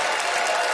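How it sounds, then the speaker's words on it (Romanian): Applause from a studio audience at a Romanian comedy show, welcoming a special guest comedian onto the stage; a short, steady burst of clapping that fills the room without pauses. "haideți să primim cu aplauze furtunoase invitatul special de astăzi, Andrei Duban"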